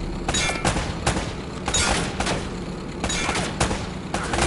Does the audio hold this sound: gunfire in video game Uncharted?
yes